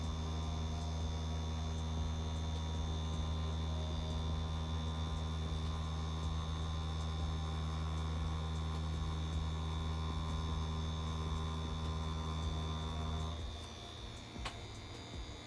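A tattoo machine runs steadily while drawing a line, a constant electric buzz with a strong hum held for about thirteen seconds, then cutting off, leaving a quieter hum.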